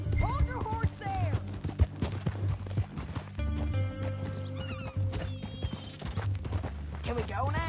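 A horse in the Red Dead Redemption 2 video game clops along with steady hoofbeats, mixed with a whinny and mechanical creaks, while voices talk over the in-game sounds.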